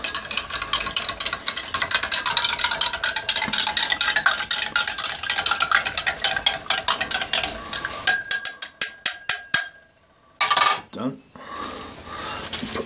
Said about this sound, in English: Another MRE spoon, let's give it a quick stir.